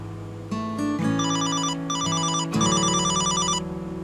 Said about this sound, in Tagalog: Cellphone ba yun ni Mahal?